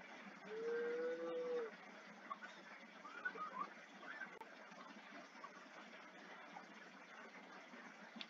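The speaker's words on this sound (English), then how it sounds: "Is that an actual cow?" A single drawn-out cow moo sounds early, fairly clear but soft, over a quiet background hiss, followed by faint scattered noises with no voices.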